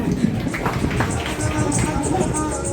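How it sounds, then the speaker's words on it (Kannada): Dense, steady applause from an audience at a college welcome party and honoring ceremony, a continuous wash of many hands clapping at even loudness throughout, with faint voices mixed in. "ಚಪ್ಪಾಳೆ ಹೊಡಿಯಕ್ಕೆ ಹೊಡ್ರಪ್ಪ"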